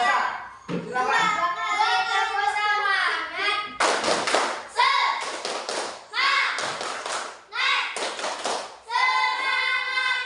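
A group of children performs a rhythmic clapping chant, Tepuk SBG, in a classroom, with loud patterned claps and voices chanting along steadily throughout.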